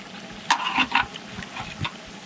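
Chili dropped into a hot pan for Bengali cooking sizzles and crackles in a few short bursts, with a faint stirring scrape between them, close and moderately loud.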